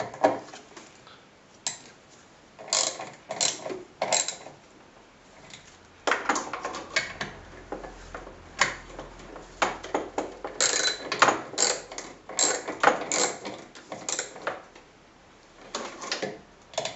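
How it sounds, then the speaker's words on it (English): A ratchet tightens a bolt on the brake master cylinder of a Peugeot 306 in a series of rapid clicking bursts with short pauses between strokes, fairly close, with no talk. "Go ahead and put the ratchet on it and tighten it up."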